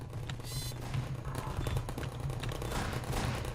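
Turret gunfire from the video game Half-Life 2: a steady, loud rattle of rapid automatic shots that runs continuously through the short stretch, with no talk over it.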